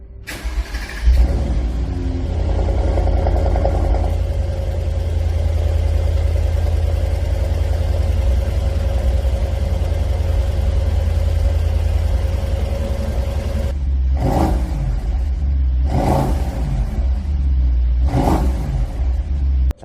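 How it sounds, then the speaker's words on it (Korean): A Mercedes-AMG SL63 4MATIC engine idles with a deep, rumbling exhaust, then revs sharply three times in quick succession near the end, loud and close. "이 배기음을 들려드리겠습니다."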